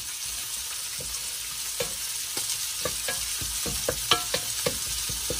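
Seasoning with salt and sugar being stirred in a pan, a run of quick spoon scrapes and taps over a soft constant sizzle, close by with no voices.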